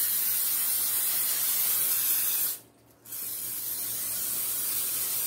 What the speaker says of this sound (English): I have some Pam here, non-stick cooking spray.